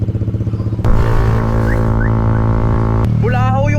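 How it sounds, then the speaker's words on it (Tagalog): A loud Yamaha Fino scooter with a 232cc engine roars close by as it rides, steady and harsh, while a car alarm wails and voices briefly break in near the end. "Bulahaw yung motor, nag-a-alarm yung mga nadadaanan."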